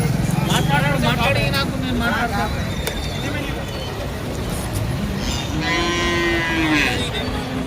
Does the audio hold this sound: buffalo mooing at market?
yes